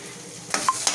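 Masala for stuffed brinjal frying in a pan: a soft, steady sizzle with a few quick scraping stirs, heard close and without talk.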